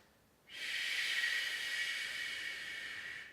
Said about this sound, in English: As I breathe in